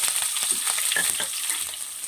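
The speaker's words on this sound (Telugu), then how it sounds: "నాలుగు పచ్చిమిర్చి వీటిని బాగా వేయించాలి" Chopped onions, shahi jeera and bay leaves fry in a pan with a loud, steady hiss of sizzling oil, close up, with faint stirring movements underneath.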